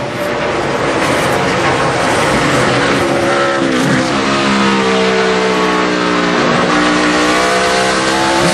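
Race cars at Watkins Glen roar past at full speed, loud high-revving engines rising and falling in pitch as several cars sweep through a section of the track in close succession.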